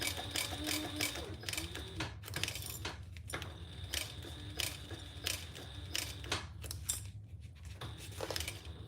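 A home sewing machine stitches in a quiet room, running as a faint, steady mechanical whir with small rhythmic clicks and brief pauses, with no one talking.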